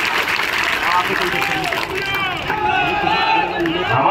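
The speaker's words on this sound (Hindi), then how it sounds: "एक बार जोरदार ताली बजाओ हमारे सिंधिया जी के लिए।" A large outdoor political rally crowd in Shivpuri, Madhya Pradesh, roars and cheers loudly and continuously, with shouting voices blended into the crowd noise throughout.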